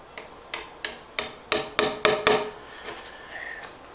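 Several sharp wooden taps of a hammer or mallet, about eight in quick succession and growing slightly stronger, driving a dowel into its hole in a timber-frame joint for a workshop stair landing, close and clear with no talk.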